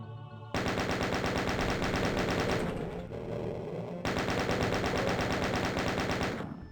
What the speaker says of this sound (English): Except instead of shooting at a cyber demon, I'm shooting at chain gunners.